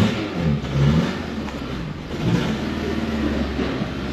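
A Peugeot 206 engine with its check-engine light on runs close by in a steady low drone, swelling into a rev near the start and again partway through, with no talk.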